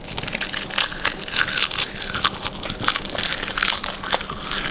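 Crispy roasted nori seaweed snack being broken and crushed by hand, giving a dense, continuous run of close, dry crunches and crackles with no talking.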